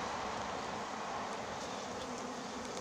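Honeybees fly around during a transfer into a natural hive, making a dense, continuous buzzing swarm drone that stays close and steady without pause.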